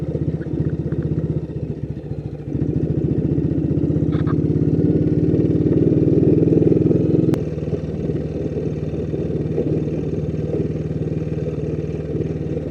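BSA C15 motorcycle climbing uphill, its single-cylinder engine thumping steadily and close, growing louder as it pulls harder partway through, then settling back to a steady drone.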